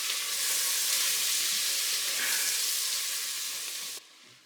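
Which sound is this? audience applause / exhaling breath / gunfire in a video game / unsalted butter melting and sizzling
unsalted butter melting and sizzling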